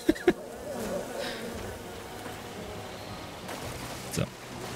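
Bees buzz around a tree being chopped with an axe in the survival game Len's Island, a steady insect drone under a couple of sharp thumps near the start and another near the end.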